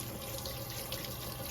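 Tap water runs steadily over a mini waffle maker being rinsed, an even close splashing gush with no break and no voices.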